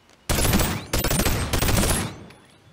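Shotgun blasts in a Minecraft-style FNAF lucky-block game, three loud bursts in quick succession, each with a hard attack and a sustained noisy tail, no talk over them.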